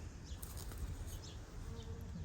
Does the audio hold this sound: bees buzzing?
yes